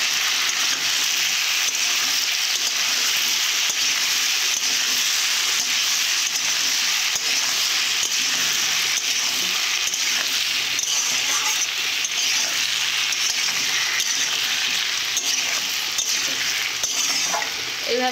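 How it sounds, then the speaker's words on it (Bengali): Potato and taro curry seasoned with turmeric and salt is stirred and sautéed in a pan, giving a loud, continuous sizzle with repeated scraping strokes of the spoon throughout, and no talking. "ভালো করে নেড়ে চেড়ে নেব।"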